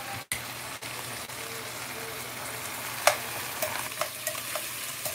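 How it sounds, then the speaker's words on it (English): Mushrooms sautéing in oil in a pan sizzle steadily while being stirred, with a few scraping clicks of the utensil against the pan and an occasional soft spatter. "I'm just stirring this around to make sure that everything gets coated with the oil"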